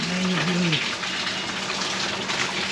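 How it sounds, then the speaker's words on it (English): Water gushes steadily from the manual bilge pump outlet of a 2015 Ranger Z119C bass boat, a loud continuous splashing stream heard close up, with a brief tonal hum at the start. "We're going to turn the Manual Bilge on."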